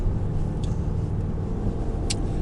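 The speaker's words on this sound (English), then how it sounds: "Sounds like an American V8." A steady, low engine rumble from a 2020 Nissan Titan's 5.6-litre V8 runs throughout, idling evenly with no talk, plus a couple of brief faint high clicks.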